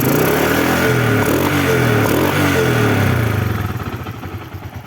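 A 2005 Suzuki Smash motorcycle engine runs steadily at close range with a loud, even mechanical beat and some clatter, fading slightly toward the end.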